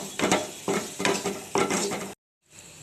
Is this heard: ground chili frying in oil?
yes